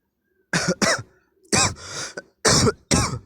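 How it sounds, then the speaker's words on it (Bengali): A person with a cold coughs outdoors in an open field while cooking meat, in several sharp bursts: two quick coughs, then a longer rasping cough and another pair, close and loud with no talking. "কাশি আসছে"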